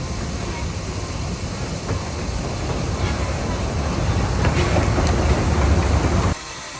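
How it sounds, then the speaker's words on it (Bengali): Puffing Billy steam train in Australia moving along, heard from a carriage right behind the engine as a steady, loud low rumble and rolling noise that builds slightly before dropping off near the end. "ধোঁয়া ছাতে ছাতে ট্রেনটি এগিয়ে যায়"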